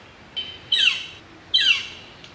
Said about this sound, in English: I got a bird about to crap on me.